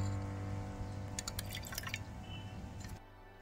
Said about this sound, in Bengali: এবার এর মধ্যে আমি দইয়ের জলটা দিয়ে দিচ্ছি।